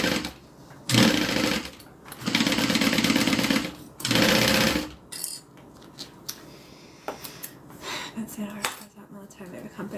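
Sewing machine damaged in a house move, running in three loud stitching bursts of about a second each, followed by quieter clicks and clatter.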